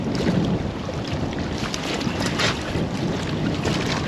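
Strong wind blows steadily across an open spot during winter skimmer fishing, a loud rough rushing that buffets the microphone with gusty swells and no voices.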